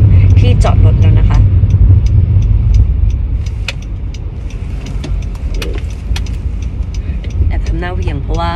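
A car drives up to an office building and turns into its parking lot, a steady close engine and road rumble running throughout, with someone talking over it.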